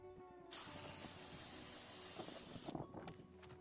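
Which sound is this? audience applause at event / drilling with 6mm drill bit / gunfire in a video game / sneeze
drilling with 6mm drill bit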